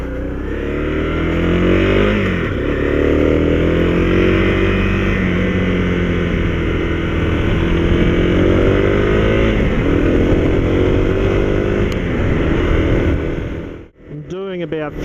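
A Honda CRF250L 250cc dual-sport motorcycle carrying about 100 kilos climbs hills, its engine droning loud and close under steady load with rising and falling pitch, then backing off near the end.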